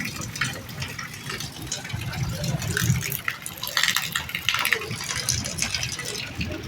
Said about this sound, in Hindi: बारिश आ रही है भाई